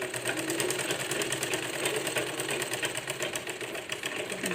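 Sewing machine stitching the back panel of a blouse, a steady rapid whirring run that continues evenly throughout, loud and close with no talk.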